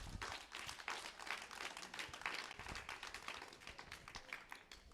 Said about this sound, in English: Somebody give Lrtn a hand of applause.